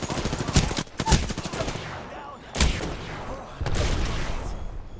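Rapid automatic gunfire in the Apex Legends video game crackles in dense bursts, loud and close, with brief gaps between volleys.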